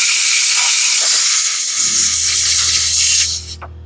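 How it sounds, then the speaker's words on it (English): Brake cleaner sprayed from an aerosol can into an electrical terminal on a John Deere zero-turn mower, a loud close continuous hiss that cuts off abruptly near the end, leaving a faint low hum. "blow that bad boy out."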